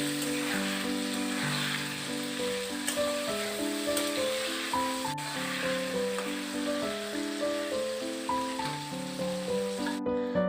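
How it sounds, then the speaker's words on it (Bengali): Potatoes sautéing in chicken curry gravy in a pan while being stirred give a steady hiss and sizzle that runs throughout, partly buried under louder melodic background music. "এবারে আমি ভালো করে নাড়াচাড়া করে মাংসের ঝোলের আলুটাকে কষিয়ে নিচ্ছি"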